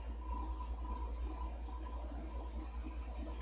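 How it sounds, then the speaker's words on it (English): Black spray paint is sprayed onto an X-Wing miniatures Sith Infiltrator model, giving a steady, close airy hiss with a couple of brief breaks near the start. "I'm just going to go ahead and spray out the rest of the black here"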